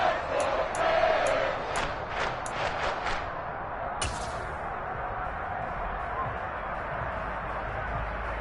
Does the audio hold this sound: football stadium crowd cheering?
yes